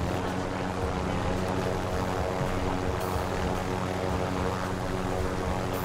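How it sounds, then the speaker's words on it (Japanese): A helicopter's rotor and engine run in the video game Call of Duty Warzone, a loud, steady droning hum with a constant throb, close by and unbroken from start to finish. "ほら、ヘリコプターあるぞ。"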